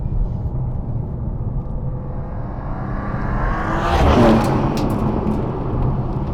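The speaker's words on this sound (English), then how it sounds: "BMW M have this way with straight sixes. They obviously make them quite raspy." A BMW M2 G87 with its S58 straight-six engine rumbles low, then builds to a raspy, rising rev that peaks and settles back, heard close with no talking.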